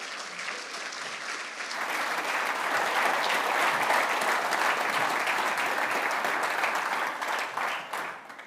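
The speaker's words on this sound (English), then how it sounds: "So I'll hand over to Jim, if you can all give him a round of applause" Sustained applause from a large audience, dense and steady clapping that swells after a couple of seconds and fades slightly at the end.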